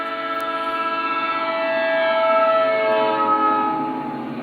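Siren wailing steadily as it passes, holding level tones before the pitch slides lower on moving away, moderately loud with no voices.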